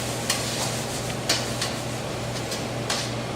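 Ingredients for an Italian chicken beet salad being stirred together in a pan, with a low steady hum under a soft sizzle and a handful of sharp utensil clinks spaced irregularly.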